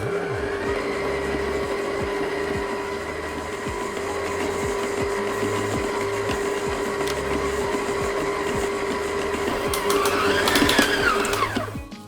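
Food processor running at second speed mixing quiche Lorraine pastry dough with a drizzle of olive oil, a steady motor whir with a rhythmic churning thump that grows louder and strains near the end before cutting off.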